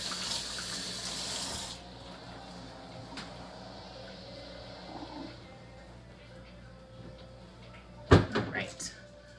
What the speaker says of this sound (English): let me just wash my hands real quick since I just handled raw poultry